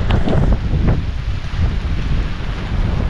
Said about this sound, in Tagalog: Sobrang palakas yung hangin, tapos palakas nga yung ulan.